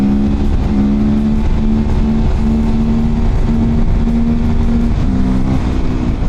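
A Sherco 500 supermoto motorcycle revving hard during a wheelie: a loud, close, continuous engine drone that holds a fairly steady pitch with small rises and dips, with no voices.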